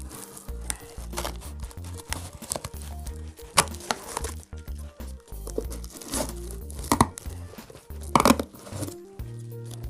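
Scissors cut a small hole in a paper heart piñata, giving close crinkling and snipping sounds in uneven bursts with rustling paper between cuts.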